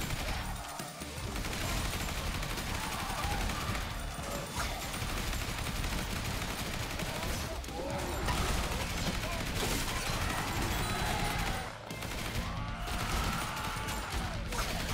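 Dense, continuous assault rifle fire rattles through a zombie-horde battle in Yet Another Zombie Survivors, loud and relentless with brief gaps, layered with chaotic impact and crash effects.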